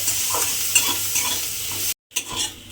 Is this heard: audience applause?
no